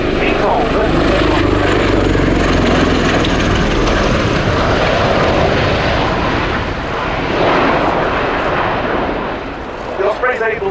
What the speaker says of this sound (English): We'll shortly see the aircraft beginning to decelerate and convert to